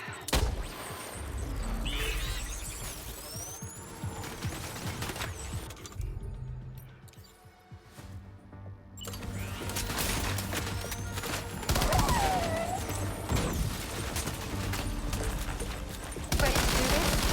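Heavy gunfire in the Death Stranding 2 final fight against Higgs, loud sustained fusillades and machine-gun bursts that drop off briefly mid-way, then resume dense and close.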